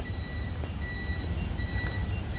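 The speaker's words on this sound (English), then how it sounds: "that beeping you hear from it is the turn signal chime" A UPS truck's turn signal chime: repeated electronic beeping tones at an even rhythm over a low rumbling idle, fairly faint, on a downtown street in Naperville.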